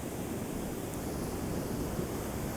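Ocean surf washes on a misty day, a constant broad roar of waves with wind noise buffeting the microphone, no voices.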